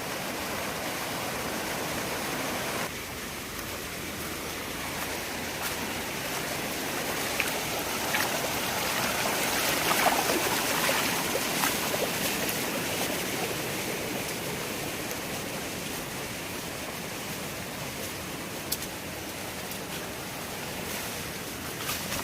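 The flooded Jamda river rushes past in a steady, dense roar of flowing water that holds constant and loud throughout, with no voices over it.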